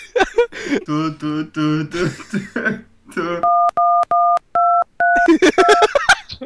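A telephone number is dialed on a keypad: about six short, loud, clean DTMF beeps in a quick, slightly uneven sequence, with people talking just before and after.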